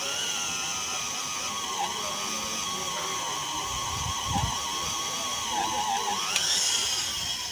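A drilling machine whines steadily as it bores a deep hole in hard steel for a long bolt. The tone is continuous, with a slowly wavering pitch and faint grinding underneath.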